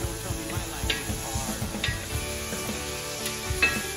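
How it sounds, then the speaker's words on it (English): Food sizzles and crackles steadily in a hot pan, a continuous close frying hiss with small ticks and pops. "Do you hear the sizzle?"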